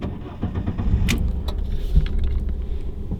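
Key turning in the ignition of a Fiat 500, switched off and back on: soft mechanical clicks and a faint jangle of keys against a low cabin hum, close and fairly quiet.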